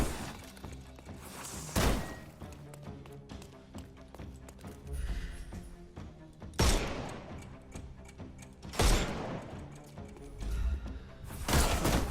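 Gunfire in a Sherlock Holmes video game: scattered sharp shots and bursts, some loud and close, others softer, popping irregularly over a busy game soundscape with explosive thumps.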